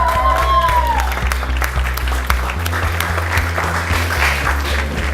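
An audience at an art exhibition opening gives a steady round of applause, dense clapping continuing throughout over low background music.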